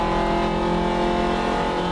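Race car engine at full throttle during a circuit race, a loud steady high-pitched drone held close throughout with no break or voices.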